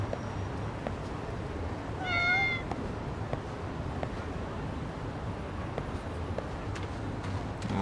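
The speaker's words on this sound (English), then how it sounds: "There's the kitties." Cats meow in the video game Lost Judgment. One clear, drawn-out meow rises above a steady ambient hum of game background noise, and the rest is only low-level environment sound.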